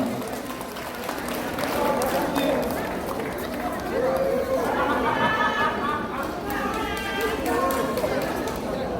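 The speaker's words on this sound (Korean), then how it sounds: "여러분들 뜨거운 격려의 박수 그리고 환영의 박수 다시 한번 주시기 바랍니다" Crowd applause at an award ceremony for a national trot song contest: steady, dense clapping that fills the whole stretch, with chatter and voices mixed in.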